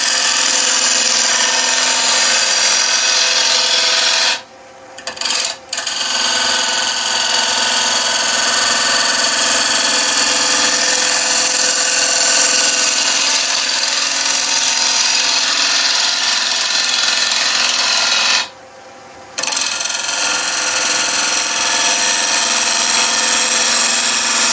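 A lathe tool cuts into a bowl made of resin and wood, giving a loud, continuous broadband roar of cutting and motor. It breaks off briefly twice, near 4.5 s and 19 s, and no one speaks.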